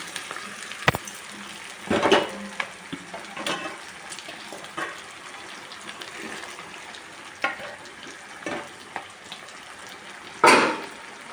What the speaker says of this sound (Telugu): ఈ చేప ముక్కలన్నీ వేసేసుకున్నాం